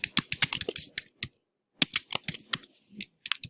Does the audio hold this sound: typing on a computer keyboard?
yes